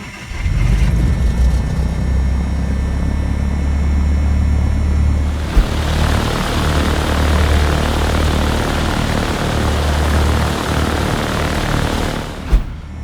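A simulated Piper PA-38 Tomahawk in the Prepar3D flight simulator sits with a steady low electrical hum until its engine catches about midway, then settles into a loud, continuous propeller-engine drone, ending with a brief sharp click.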